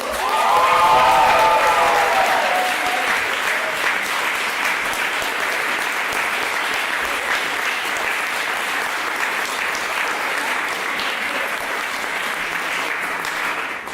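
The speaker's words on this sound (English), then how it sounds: "Let's give one big round of applause for all of our incredible performers." Sustained applause from an evening audience at a university forensics homecoming showcase, steady dense clapping throughout with a few cheering voices and whoops rising near the start, filling the room for the full stretch.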